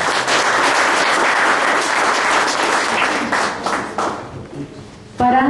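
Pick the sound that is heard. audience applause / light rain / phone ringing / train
audience applause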